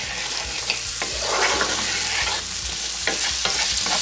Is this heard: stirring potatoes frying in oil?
yes